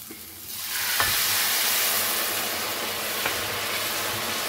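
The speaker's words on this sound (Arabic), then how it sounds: "انا دوك نرمي لها الماء" Water splashes into a hot frying pan of toasted wheat, setting off a loud rushing sizzle that quickly swells and holds as a dense steady hiss with a couple of faint clinks.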